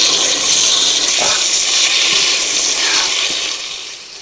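Water gushes loudly and steadily from a hose, a broad continuous rush that tapers off slightly near the end.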